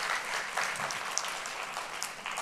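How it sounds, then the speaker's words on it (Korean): A church congregation in Kuala Lumpur gives the choir a steady round of applause after a Sunday worship hymn, dense, even clapping filling the hall with no talking over it. "우리 찬양대 그 수고에 감사의 박수 크게 한번 다시 하도록 하겠습니다"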